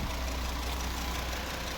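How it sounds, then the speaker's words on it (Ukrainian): A 2013 VW Jetta with a 2.5 petrol engine converted to run on LPG idles steadily, a low, even rumble heard up close and alone for a couple of seconds. "Ось робота двигуна."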